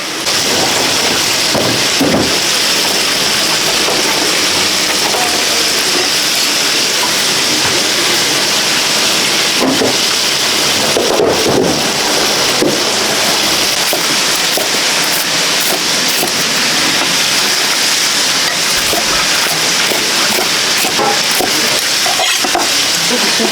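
Katsu cutlet deep-frying in oil at a small Japanese diner, a loud continuous close sizzle and crackle with occasional scrapes and clatter of the kitchen.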